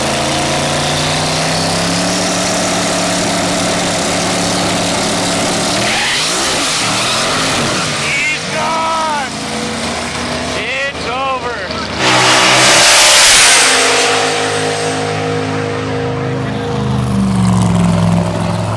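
Drag racing cars rev and accelerate at the strip, a steady loud engine drone with rising revving sweeps midway and a louder surge near the end, with voices talking over the engine noise.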